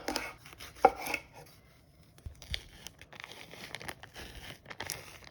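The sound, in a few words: knife cutting Dominican frying salami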